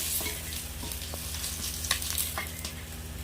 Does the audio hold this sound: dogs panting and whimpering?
no